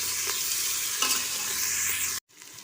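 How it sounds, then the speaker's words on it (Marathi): Vertically sliced onion sautés in a hot pan for masala eggplant rice, a steady loud sizzle with occasional stirring scrapes that cuts off abruptly near the end, leaving faint room tone. "हे मी उभा चिरलेला कांदा घालते. एक 2 मिनिट परतून घेते"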